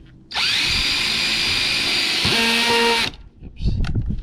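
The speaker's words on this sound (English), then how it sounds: "drill the second hole." A power drill whines loudly and steadily as it bores a hole for a homemade surf fishing rod holder, its pitch shifting partway through before cutting off, followed by handling clatter nearby.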